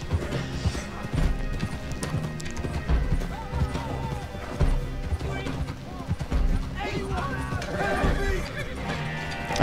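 A horse in Red Dead Online gallops with rapid rhythmic hoofbeats and lets out whinnies, mixed with game sounds while people talk over it throughout.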